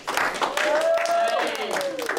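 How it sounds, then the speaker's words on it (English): A streaming audience claps for itself in a dense, steady wash of applause lasting the whole moment, with a voice speaking over the clapping. "one more round of applause for yourselves"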